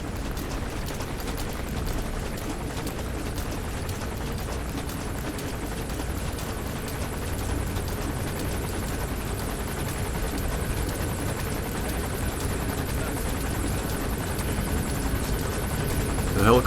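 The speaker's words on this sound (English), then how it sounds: "The helicopter's intimidating," A helicopter in Metal Gear Solid V hovers with a steady, loud rotor drone that holds evenly for the whole stretch, with a brief louder burst near the end.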